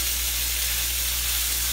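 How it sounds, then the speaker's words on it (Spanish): Ground meat browns in a pan for a keto spaghetti Bolognese, giving a strong, even sizzle and hiss of frying that carries steadily and close throughout, with no talk. "Lo que queremos es dorar bien toda la carne antes de agregar"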